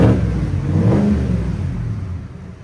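A 2023 GMC Yukon Denali's 6.2L V8 revs through a Flowmaster FX cat-back exhaust, one loud, deep surge swelling early and then settling into a throaty rumble that slowly fades.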